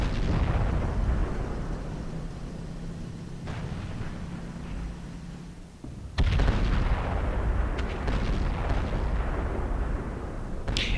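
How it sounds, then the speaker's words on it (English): Heavy tank cannon shots in World of Tanks, from an E100 with a modded sound pack: a deep booming blast at mid-clip and a lighter report before it, each trailing into a long rumbling echo over steady background battle noise. "You can hear the sounds of the shooting."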